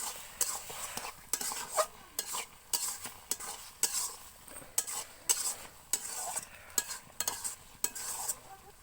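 A spoon stirs a thick pumpkin and Malabar spinach curry with a little sugar in a pan, giving a steady run of scraping clinks with a soft sizzle underneath, close and fairly quiet, with no talking.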